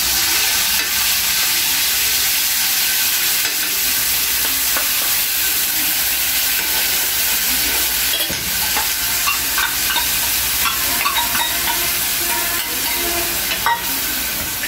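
Cumin and chutney sizzle and fry loudly in a hot pan for suji appe, with a continuous hissing crackle close up and occasional scraping of stirring throughout, without any talking.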